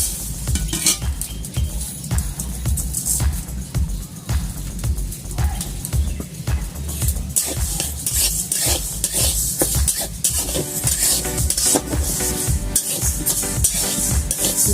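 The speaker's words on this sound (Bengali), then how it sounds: "এখন আমি ডালটা ভেজে নেব" Dal dry-roasts in a hot kadai for vegetable khichuri, a metal spatula repeatedly scraping and clinking against the pan in a brisk, uneven rhythm, with a faint sizzle beneath.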